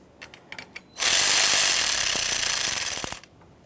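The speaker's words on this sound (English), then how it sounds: "With both pieces of hardware started in, let's go ahead and snug them up" A power tool, likely an impact driver, snugs up radiator mounting bolts on a 2009-2014 Nissan Maxima 3.5L V6, whirring loudly and steadily for about two seconds after a few light clicks, ending in a quick burst of rattling impacts.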